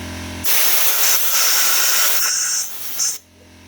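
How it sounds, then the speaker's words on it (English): Compressed air from an air compressor nozzle blows into a spark plug hole on a Vanguard 21HP engine, a loud, sudden hiss lasting under three seconds, then a short second burst before cutting off. "just blow a little air in there, make sure it's completely clean"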